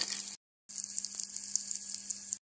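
Onions tipped into hot oil where mustard seeds and cumin have already popped, sizzling as a steady, bright, close hiss in two bursts separated by a short silence, with a low hum underneath.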